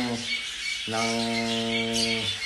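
Young birds about two to three weeks old squawk from a nest box at close range: a short harsh call, a brief pause, then a longer sustained squawk, with a faint rustling background.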